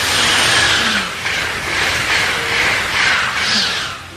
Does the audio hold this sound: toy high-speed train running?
yes